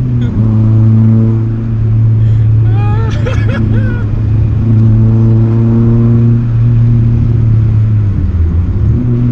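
A car engine, still cold, drones loudly and steadily with a strong low hum and shifts of pitch as it revs, and voices briefly break in partway through.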